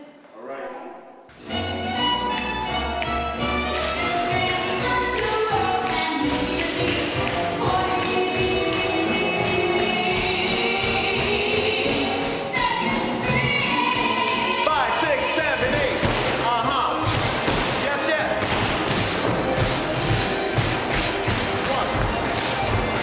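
Tap dancing steps at the Broadway Dance Center studio make quick, sharp clicking taps in busy rhythms. The taps play under loud music for most of the stretch, and voices can be heard now and then.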